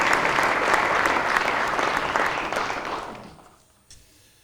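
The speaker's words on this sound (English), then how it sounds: "we can sure give them a round of applause as well." Audience applause fills a fire and emergency services badging ceremony, steady and loud for about three seconds before tapering off into near silence.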